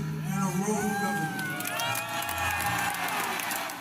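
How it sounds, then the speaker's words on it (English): A crowd cheering and shouting in a large gathering, a steady dense roar of voices with whistles and high shouts rising over it, continuous throughout at moderate level. "Not really a raucous crowd there"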